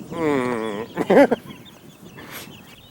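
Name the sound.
mother chicken and chicks clucking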